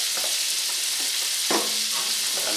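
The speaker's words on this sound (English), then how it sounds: "Oh, what the heck, I'm going to add 2 tablespoons of butter. Then, I want to add the mushrooms." Sliced mushrooms sizzle in melted butter in a pan, a steady broad hiss running throughout with a brief louder crackle burst partway through and faint stirring knocks beneath.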